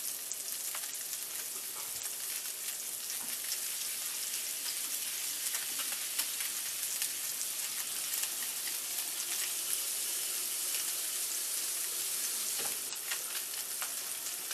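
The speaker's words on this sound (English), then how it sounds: "you want to hear that nice, hard sizzle" Blackened salmon sizzling hard in hot ghee in a pan, giving a steady, loud, close hiss that holds without letup and carries faint clinks and stirring noises.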